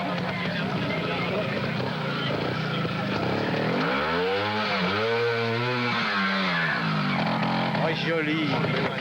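A trials motorcycle engine revs hard in bursts, rising and falling pitch sweeps climbing as the bike accelerates, close and loud over a busy outdoor background.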